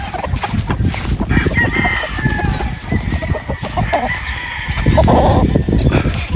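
Roosters crowing among clucking chickens at a gamefowl yard, several birds calling loudly and close in overlapping bursts over steady outdoor noise.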